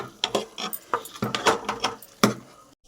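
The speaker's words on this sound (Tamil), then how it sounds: "இதை நல்லா கிண்டி விட்டுக்கலாங்க." Sambar rice being stirred in a pot with a spoon, a series of irregular scraping and knocking strokes against the vessel, close and fairly loud, ending in a brief pause.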